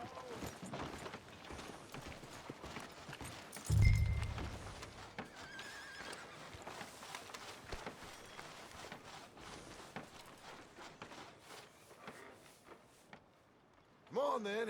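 A horse in Red Dead Redemption 2 whinnies loudly partway through, with faint hoof clip-clops and footsteps around it, while voices talk over a quiet town ambience; a second loud burst closes the stretch.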